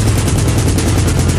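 A military helicopter fires its 30 millimeter gun in a rapid, loud, continuous burst of shots, close and dense.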